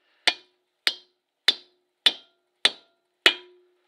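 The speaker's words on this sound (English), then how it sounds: "we'll try just hitting them with a hammer first and see how that works." Six sharp metallic hammer strikes on a Chevy C30 rear brake part ring out at an even, deliberate pace, each with a short bright decay and silence between them.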